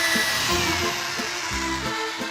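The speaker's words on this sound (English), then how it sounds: "so let the drill go where it wants to go." A power drill bores into wood for a balcony at a glamping site in the Dordogne countryside, giving a steady, close, whirring motor drone with faint rhythmic pulses and no talk.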